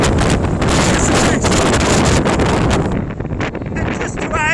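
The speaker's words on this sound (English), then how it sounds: "the wind's too strong, so I'm going to fish down that way" Strong coastal wind buffets a fitted wind microphone on the shore at The Swale in Sittingbourne, Kent, during a snowy sea-fishing session, a loud continuous roar that eases slightly near the end.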